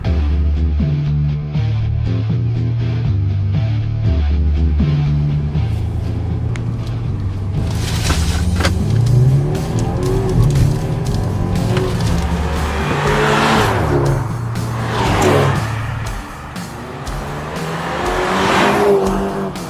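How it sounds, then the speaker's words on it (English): A BMW 330Li's turbocharged B48 four-cylinder engine revs hard and accelerates through several gears, loud and close, with brief drops between shifts and a rising whine. "Put your foot down and the engine does respond quite nicely."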